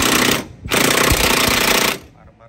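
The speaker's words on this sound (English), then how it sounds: "ginagamitan na nung ano, pambigating electric drill natin dyan" A heavy-duty electric drill loosens the bolts on a car's engine mount during a DIY replacement, giving two loud rattling bursts with a short pause between them before the noise drops away.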